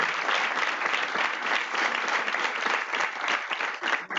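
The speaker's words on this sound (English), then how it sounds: "a big clap for them" Sustained applause from an audience at a Red Cross event, honoring the local Braga branch team; steady, dense clapping fills the whole stretch without pause.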